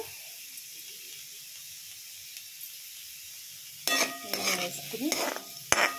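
Ingredients for a brinjal tamarind curry fry in an oil-slicked pan, giving a steady low sizzle that gives way to louder scraping and clattering stirring bursts near the end.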